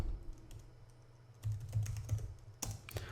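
Quick typing on a computer keyboard, a rapid run of close clicks and key taps with a low hum underneath and a louder burst of keystrokes near the end.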